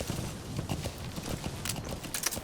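A horse gallops in Metal Gear Solid 5: The Phantom Pain with quick, rhythmic hoofbeats, a brief whinny-like call and a few sharp higher clacks near the end.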